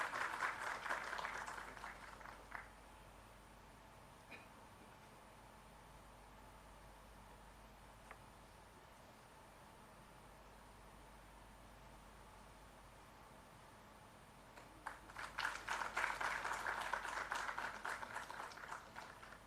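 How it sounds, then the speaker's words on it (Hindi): Applause at a book launch ceremony held at Raj Bhavan in Dehradun, a burst of clapping at the start that fades out, near silence in between, then a second louder round swelling near the end. "कृपया जोरदार तालियों से उत्साहवर्धन करने की कृपा कीजिएगा।"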